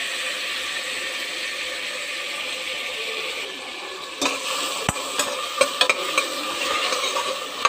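Onion and curry leaves fry in a pan, giving a steady loud sizzle, with a cluster of sharp scraping and clattering stirs in the second half.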